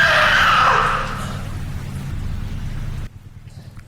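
Sudden rain pours down in a loud, dense hiss that eases after the first second and then continues steadily before cutting off abruptly near the end, with no voices present.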